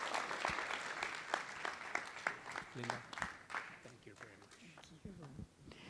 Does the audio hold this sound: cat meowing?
no